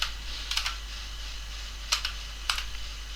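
Keyboard keys clatter in three short bursts of a few quick strokes each, separated by pauses, while someone codes late at night over a steady low electrical hum.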